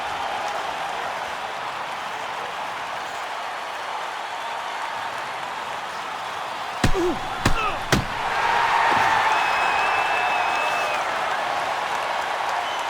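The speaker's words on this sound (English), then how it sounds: "This crowd is pumped. Listen to the noise." Hockey arena crowd in NHL 09 keeps up a steady roar, broken by a few sharp slams against the boards midway before the cheering swells louder and holds.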